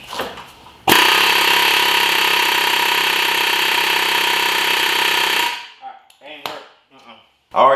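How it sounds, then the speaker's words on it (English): Steady, dense metallic clatter from a stuck axle being driven out of the hub on a 2016-2021 Honda Civic Si, running loud and unbroken for several seconds, then stopping, followed by brief scraping and handling noises. "So I'm going to keep hammering"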